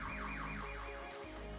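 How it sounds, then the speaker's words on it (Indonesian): A car alarm blaring, with a loud, repeating siren that sweeps up and down several times in fast cycles, then switches to a different steady wailing pattern. "gunakan kunci tersebut untuk menyalakan alarm mobil dan menakut-nakuti pencuri tersebut"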